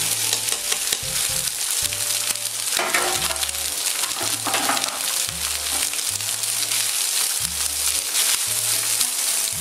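Rice sizzles and crackles continuously in a hot pan while being stirred for a fried-rice dish, a close, steady frying hiss over a rhythmic music bed.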